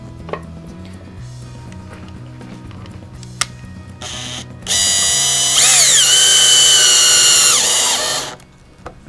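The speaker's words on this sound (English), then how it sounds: "You can also use a drill if you want to speed things up a little bit." A power drill driving screws into a pollinator house whirs briefly, then runs loud and steady for several seconds with its pitch dipping and rising under load before stopping, after some tool clatter.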